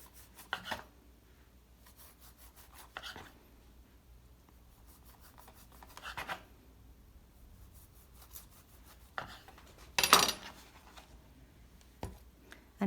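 Knife sawing back and forth through a rolled cinnamon bun, soft scattered rubbing and scraping strokes in separate bursts, close and fairly quiet, with no talking.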